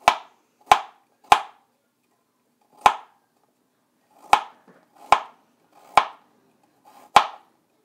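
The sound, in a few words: knife mincing ginger on a cutting board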